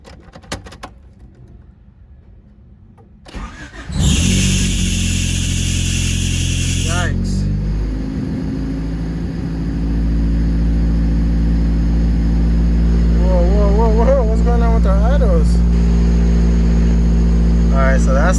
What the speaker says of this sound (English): So now we're gonna start the car and see if it fixed the idle issue we had